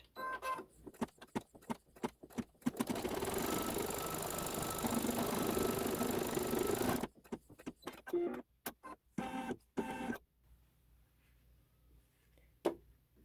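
An embroidery sewing machine runs a placement stitch on a quilt block, a soft, steady mechanical hum of rapid stitching for about four seconds, framed by quieter intermittent clicks and taps before and after.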